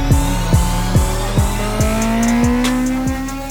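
A naturally aspirated Honda Integra Type R engine revs hard, climbing in pitch and dropping back at each gear change, a loud, close, high-revving wail that repeats several times in quick succession.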